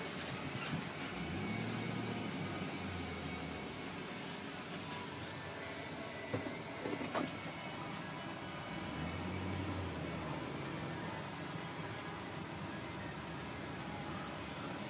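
A 2006 GMC W4500 debris dump truck driving, a steady broadband road and engine roar heard from inside the cab, with low rumbling swells and a couple of faint clicks.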